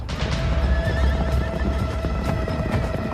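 Horses whinnying and neighing amid a battle on horseback, several high whinnies rising over a dense, continuous rumble of hooves and commotion, loud and sustained.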